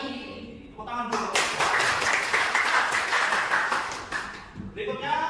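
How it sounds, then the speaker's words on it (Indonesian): Hands clap together in a classroom-style religious education lesson, a burst of applause starting after a brief spoken moment and holding steady for several seconds before fading, with talk at the start and end. "Tepuk tangan dulu."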